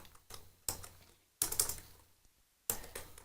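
Typing on a computer keyboard, with short clustered bursts of close, crisp key clicks separated by brief pauses.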